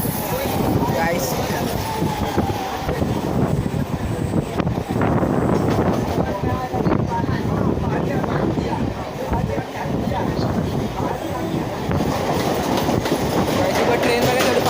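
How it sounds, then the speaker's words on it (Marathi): Train rolling along rails as it pulls into a station, a steady loud rumble with clickety-clack of wheels and wind noise throughout. "ट्रेन आलेली आहे."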